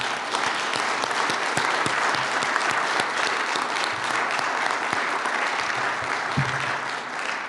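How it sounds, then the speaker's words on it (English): An audience applauds the participants of a workshop panel with sustained, even clapping that stays full and continuous throughout, with only faint crowd noise underneath. "can we just give another round of applause for everyone that's done."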